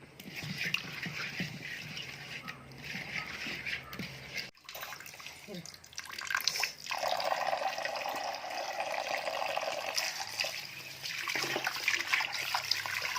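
Fish pieces are washed with turmeric powder in a container of water, with running water from a tap. Splashing, sloshing and a steady pour continue close by, with a brief pause early on.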